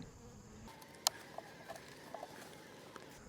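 Honey bees in an open hive give a faint, steady buzzing hum, broken by a few soft clicks and taps of frames being handled close by.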